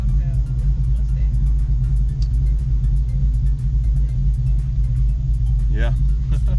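A Ford car with a manual transmission runs steadily as a loud, close engine hums at idle with some low rumble. Voices talk over it throughout.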